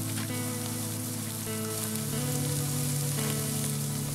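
Chopped onion sizzling steadily in a hot oiled pan for fried rice, a continuous bright crackle with no talking.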